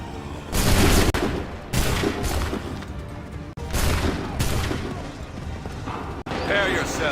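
Musket volley fire in the video game Assassin's Creed 3: several loud, dense bursts of massed gunfire crack and boom in quick succession, each trailing into a rumbling tail, with voices shouting between volleys.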